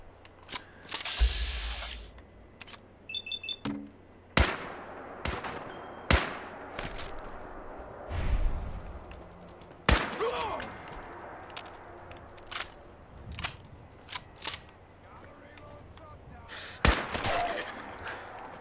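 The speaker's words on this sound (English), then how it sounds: "Surprisingly, that ghoul didn't wake up with all that gunfire." Scattered gunshots in the video game Fallout 4 crack out in bursts over a long stretch, sharp and punchy, with quieter gaps and faint other game sounds between.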